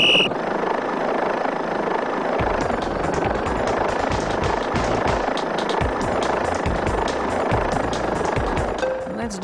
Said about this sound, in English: Another new helicopter.